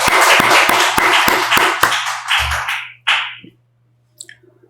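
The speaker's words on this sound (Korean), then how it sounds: "우리도 박수로 하나님께 영광 올리겠습니다." A church congregation at an afternoon worship service claps in a steady rhythm, loud and close. The claps then break up into a few scattered last ones before falling silent.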